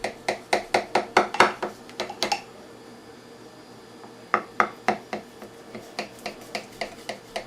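Knife pressing down through a slab of homemade caramel candy, cutting it into small cubes: a quick run of sharp, close taps, a pause with faint room hiss, then another steady series of crisp cuts.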